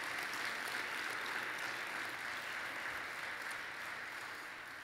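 A keynote audience applauds the event staff who worked the foyer, hallways and backstage over three days: steady, dense clapping from a large crowd throughout, tapering slightly toward the end.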